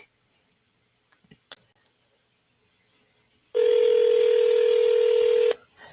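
A landline telephone gives off a few faint clicks, then a single loud, steady keypad tone that holds for about two seconds before cutting off abruptly.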